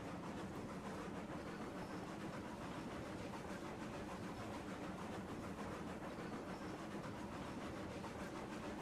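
A train rolls along the track in the railroad simulation game RAILROADS Online, making a steady, continuous rumble and clatter that holds even throughout with no talk over it.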